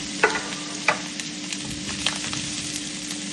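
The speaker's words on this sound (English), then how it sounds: "Now we're adding the hot dogs into the frying pan." Hot dogs fry in a hot frying pan on the stove, a steady close sizzle with a few sharp pops and crackles along the way.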